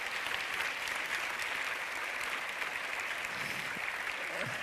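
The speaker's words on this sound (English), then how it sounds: "Big round of applause to them." An audience at a film award event applauds steadily, a dense, even wash of clapping that holds at the same level throughout with no voices standing out.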